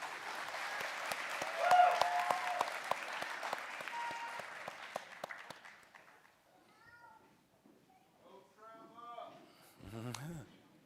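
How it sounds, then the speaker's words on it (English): Applause from a graduation crowd honoring nursing graduates at a pinning ceremony, dense clapping that swells then fades out after about six seconds, followed by faint murmurs and brief voices. "Another round of applause for this group."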